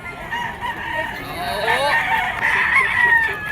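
A yellow-legged sweater-bloodline gamecock rooster crows loudly and close by at a scratch pen selling area, one long, strained call with steady background noise beneath it.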